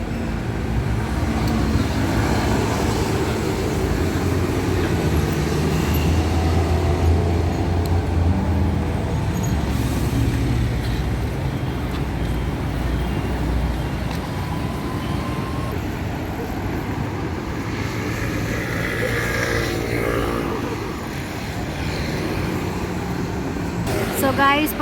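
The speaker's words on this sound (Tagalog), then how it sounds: "Tunog ng sasakyan ang music ko." Continuous street traffic on a city road, with cars, buses and trucks rumbling past in a dense, steady roar and occasional louder vehicles swelling nearby; a voice speaks over it at times.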